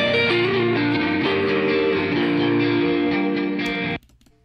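Mixed electric guitar in a produced song, sustained distorted chords with a pitch bend leading into the second verse and a quieter harmony bend layered on top, loud and steady before cutting off abruptly near the end.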